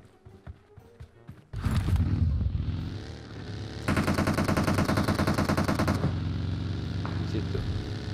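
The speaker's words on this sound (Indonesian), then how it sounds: "Yang nembak siapa?" Automatic gunfire from the PUBG video game, loud and near, with long sustained bursts after a quiet start and some voice talk underneath.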